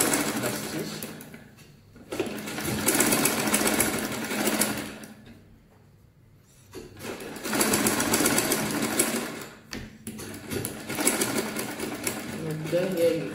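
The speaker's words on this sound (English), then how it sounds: "So you can watch as I sew it normal stitch from here." A sewing machine runs a normal straight stitch along a zipper fly, with steady whirring bursts that stop and restart several times, close and fairly loud, and a voice speaking in between.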